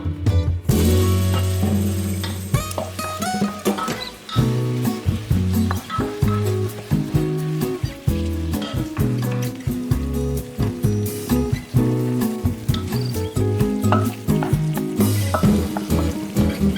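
Ground beef sizzles and crackles in a hot pan, loud and close, with steady stirring and scraping of a utensil against the pan throughout.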